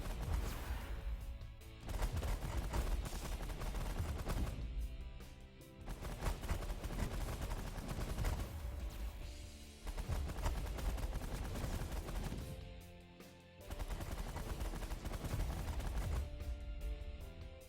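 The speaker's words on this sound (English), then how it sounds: "There's actually quite a few bullets coming at me there." Bullets fired in the space strategy game The Last Federation: dense, rapid bursts of gunfire in long loud stretches broken by short pauses, a repeating barrage that fills the whole span.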